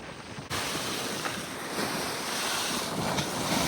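Choppy sea surf washes steadily along the Cemaes coast in Wales, a broad continuous roar of waves mixed with gusting wind buffeting the microphone, loud throughout.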